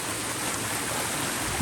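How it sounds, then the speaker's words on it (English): Water rushes steadily past a little culvert beside a canal, a continuous broadband stream sound heard nearby without speech. "I came down here because I heard the water."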